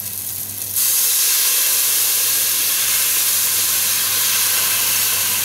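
Brandy poured into a hot pan where rabbit was cooked, erupting into a loud, steady hiss and sizzle that starts abruptly and holds for several seconds.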